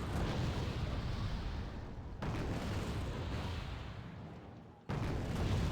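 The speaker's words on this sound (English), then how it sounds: "Artillery doing a good job here." Artillery fire in a video game makes a continuous, loud, rumbling barrage of booms and blasts with two abrupt cuts in the roar.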